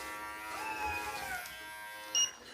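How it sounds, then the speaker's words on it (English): Electric clippers buzz close and quietly as they shave a cat's fur during a lynx-style groom, a steady thin whine with a brief louder bump near the end. "I'm going to shave up to my thumb."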